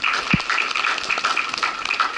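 A seminar audience at the Indosat building in Semarang applauding, a dense, continuous patter of many hands clapping at moderate distance for a couple of seconds.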